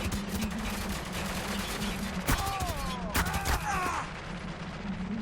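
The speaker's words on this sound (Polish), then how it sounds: "kto mnie strzela?" Gunfire in the war shooter Spec Ops: The Line, a steady crackle of shots with a few sharper nearby cracks around the middle, over constant battle noise and engine hum, with brief voices mixed in.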